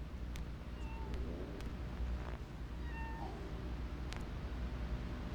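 A stray cat meowing outdoors, several short high-pitched meows spaced a second or so apart, close and clear over a steady low rumble of background noise.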